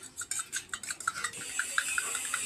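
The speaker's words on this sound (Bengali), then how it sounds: "দিয়ে এবার চামচ দিয়ে ফেটে নিচ্ছি" A spoon beats eggs in a bowl, a quick run of light rhythmic clinks and sloshing taps close by, speeding into a steadier patter, with no talking.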